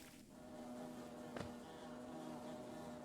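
Insect-like buzzing of bee enemies in Hollow Knight drones steadily throughout at moderate level, with a brief sharp click near the middle and no talk.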